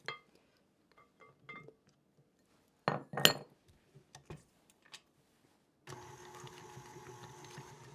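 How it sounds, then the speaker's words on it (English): After a few light clinks and knocks of kitchen utensils, an electric mixer switches on and runs as a steady close whir, mixing dry ingredients and butter for an Australian pudding. "I'm just going to turn this on and mix those dry ingredients together"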